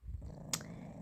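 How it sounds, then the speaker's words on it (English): A pet cat purring softly up close, a faint low rhythmic rumble with a brief higher click partway through. "What a lovely purr."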